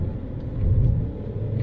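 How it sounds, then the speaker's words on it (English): A Citroën C6 diesel engine runs with a low, smooth rumble that swells slightly and then settles, heard close with no speech. "It's not bad for a diesel, it's pretty smooth for a diesel."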